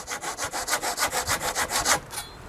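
A hand saw cuts through wood in about a dozen steady back-and-forth strokes, rasping and close, then stops.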